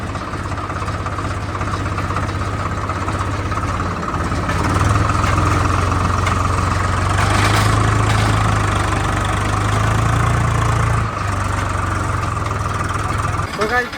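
A farm tractor idling after being pulled free from where it was stuck, a loud steady low engine drone running throughout with a slight rise in pitch midway, close by and continuous.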